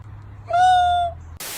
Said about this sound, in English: The raccoon dog, also known as a tanuki